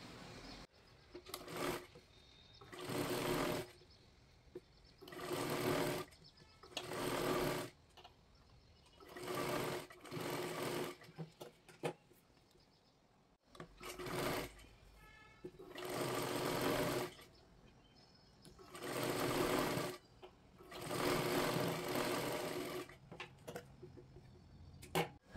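A sewing machine stitches a folded blouse sleeve edge in repeated bursts of rapid whirring, each a few seconds long and separated by short pauses, close and clear with no talk.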